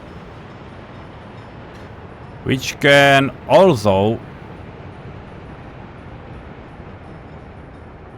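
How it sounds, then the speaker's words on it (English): A small fuel train runs in the Workers and Resources city-building game, giving a steady, even rumble that continues through the clip while a person speaks briefly over it. "This is our small fuel train"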